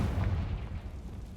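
A Confringo fire-spell blast in Hogwarts Legacy, heard as a short muffled low boom with a rumbling tail that stays steady and loud throughout.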